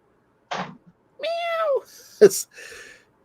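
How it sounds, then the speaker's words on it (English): A cat lets out a short cry, then a long drawn-out meow, followed by a sharp screechy yowl, loud and close against silence. "Do you have the screeching cat sound effect queued up?"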